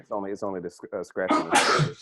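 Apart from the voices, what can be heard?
sneeze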